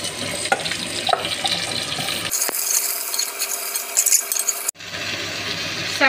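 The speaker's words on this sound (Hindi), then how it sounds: "आलू फ्राई हो गया अच्छे से लाल हो गया अभी मैं पम्पकिन को डाल रही हूँ" Pumpkin pieces drop into potatoes already frying red in a pan for a pumpkin chhakka, a broad steady sizzle with scraping stirs, then a brief lull before the frying hiss returns strongly.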